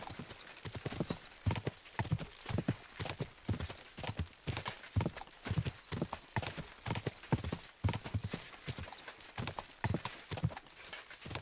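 Horse hooves clip-clop in a steady, rhythmic gallop in the video game Kingdom Come: Deliverance II, close and continuous throughout, with no speech over it.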